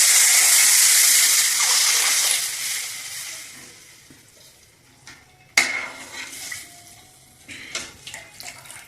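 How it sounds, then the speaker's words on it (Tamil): Pot of water and buttermilk with curry leaves coming to a boil for rava upma, a loud steady bubbling hiss at first that fades, then scattered clinks and sizzles close by. "தண்ணி மோர் நல்லா கொதிக்க ஆரம்பிச்சிட்டு"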